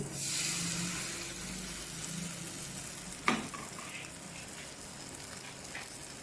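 Masala-coated chicken sizzles steadily in a pan with two big spoons of oil, a loud continuous frying hiss with one sharp clatter partway through and no talking.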